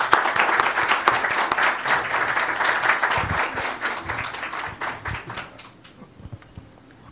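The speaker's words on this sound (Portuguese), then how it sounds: "uma salva de palmas." An audience at a lecture gives a round of applause, a dense burst of clapping from many hands that carries on steadily before tapering off toward the end.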